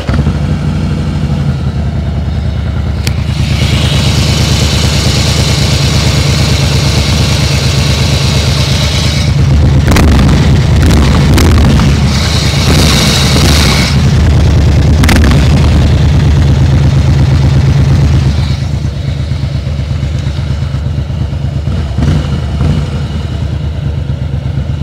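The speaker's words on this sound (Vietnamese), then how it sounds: "nổ máy các anh ngang lần nữa nha, êm ái lắm, hết sức êm ái luôn" A Harley-Davidson Softail Crossbone motorcycle engine starts and settles into a loud, steady idle close by, with a burst of rougher revving midway before returning to a smooth, even rumble; no one speaks.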